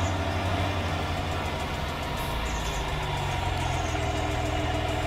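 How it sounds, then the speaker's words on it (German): Tractor engine idling in the farming video game Farming Simulator 19, a steady low rumble with even mid-range drone, constant and fairly close, no voices. "Den Grubber stellen wir hier rein und den Traktor in die Garage."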